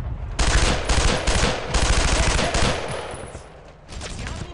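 Heavy gunfire from the World War II shooter Brothers in Arms, loud sustained machine-gun bursts with rapid rattling volleys, a short pause, then another burst, close and dominant with no talk.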